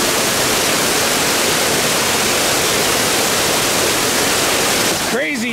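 Creek water tumbling a couple of feet at the trash rack screen of an off-grid micro hydro intake, a loud, steady, churning roar of falling water throughout, with a brief voice emerging near the end.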